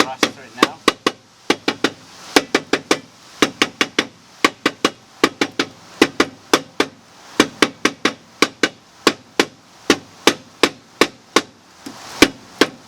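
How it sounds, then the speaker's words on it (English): Rubber mallet striking the rusted brake drum on a 2010 Nissan Versa's rear axle, a long run of sharp, fairly close knocks in uneven bursts, some quick doubles, with brief pauses between strikes. "So I'm going to try to tap it with like a rubber mallet."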